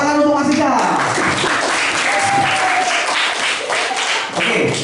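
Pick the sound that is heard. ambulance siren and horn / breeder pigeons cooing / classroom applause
classroom applause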